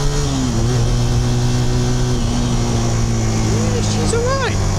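Honda Super Dream motorcycle engine held up in the higher revs, a steady loud mid-pitched drone with brief rising and falling revs near the end; speech likely mixed in.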